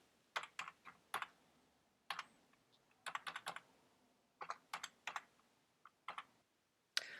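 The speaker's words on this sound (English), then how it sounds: "I'm going to enter in my credit card information." Credit card details are typed on a computer keyboard in short, quiet bursts of crisp keystrokes separated by brief pauses, close to the microphone in an otherwise silent room.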